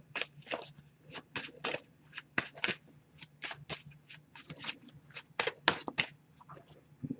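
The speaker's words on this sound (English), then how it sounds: "we'll give it a few more shuffles and then cut the deck" A tarot card deck being shuffled by hand, a quick series of soft, crisp riffling flutters in an irregular rhythm, close and fairly quiet.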